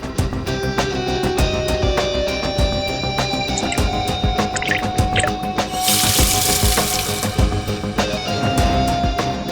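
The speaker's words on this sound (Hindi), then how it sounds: "पानी यहाँ स्पीकर से आया और वो गीला हो गया" Water gushes continuously from an elevator's emergency speaker, a loud, steady splashing pour with clicks and knocks over it and a brief hissy surge midway, no speech.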